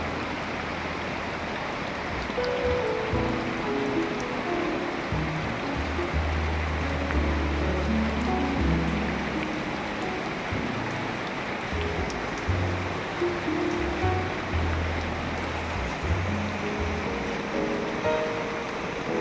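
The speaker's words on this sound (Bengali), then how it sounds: "ঝমঝম করে বৃষ্টি হচ্ছে" Heavy rain pours down steadily for the whole stretch, a dense, even hiss of falling water with a low rumble underneath and no voices over it.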